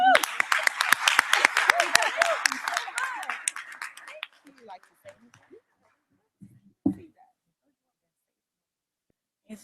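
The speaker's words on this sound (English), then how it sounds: "Please join me in lauding and applauding Desiree Chase." An audience at a city council meeting breaks into hearty applause that fades over about four seconds into scattered last claps, followed by near silence and a brief murmur.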